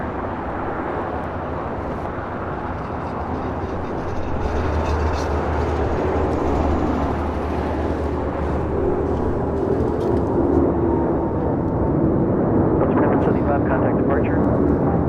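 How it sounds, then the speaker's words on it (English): A Delta Airbus A350 rolls down the runway at LAX for takeoff, a heavy, building engine rumble that grows louder toward the end, with voices talking over it. "Got that A350 with Delta heading to Atlanta, now rolling down."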